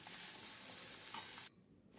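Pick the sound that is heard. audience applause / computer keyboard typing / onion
onion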